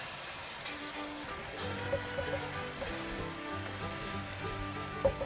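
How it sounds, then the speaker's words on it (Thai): Sliced pork stir-fries in a pan with teriyaki sauce and sugar, giving a soft, steady sizzle with scattered crackles and occasional utensil clinks, moderately quiet and without speech. "ผัดจนกว่าหมูของเราจะสุกนะคะ"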